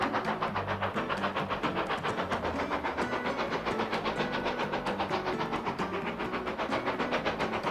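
A vintage steam locomotive works a gentle gradient near the Greenway Tunnel between Kingswear and Churston, with a rhythmic chuffing beat and rolling wheel clatter, steady and fairly close.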